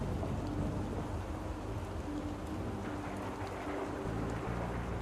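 Steady, dense rainfall with low rumbling thunder in the video game Rue Valley, a continuous loud wash of rain and no voices.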